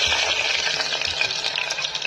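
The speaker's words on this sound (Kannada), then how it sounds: "ಚೆನ್ನಾಗಿ ಫ್ರೈ ಆಗಲಿ." Tomato paste blended with ginger, garlic and spices frying in a pan, a steady close hiss with soft crackle running throughout, no voices.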